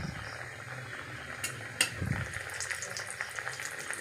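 Stuffed potato kachori fry in hot oil with a steady close sizzle and bubbling, plus a brief utensil clink and light stirring partway through.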